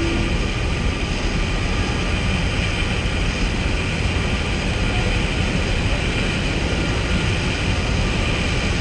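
A British Airways Boeing 737 taxiing in a flight simulator game gives a steady, loud engine roar and broadband rumble that holds unchanged throughout, with no talk over it.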